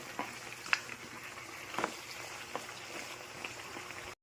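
Pork hocks being stirred with soy sauce in a wok, a soft continuous sizzle and bubbling with scattered scrapes and clicks of the spatula, close and low in level before cutting off abruptly.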